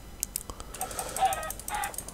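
Minecraft chickens clucking in a few short, clipped bursts, fairly close and moderately loud, with soft game ambience between the calls.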